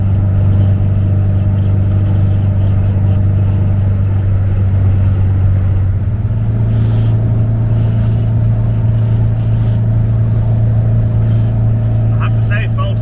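A 1974 VW Beetle with a performance engine drives at speed after an uphill run, its air-cooled engine holding a steady, loud drone that shifts pitch about halfway through, with road and cabin noise underneath.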